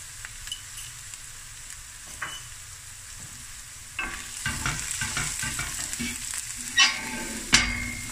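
Ginger and garlic dropped into a pan for a seafood akhni, a soft sizzle that jumps louder at the addition midway, with a couple of sharp utensil clinks near the end.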